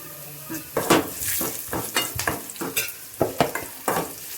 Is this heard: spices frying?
yes